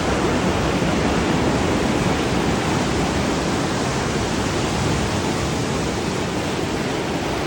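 Rough sea waves at Pohang on the South Korean coast, a loud continuous roar of surf that stays steady throughout with no voices.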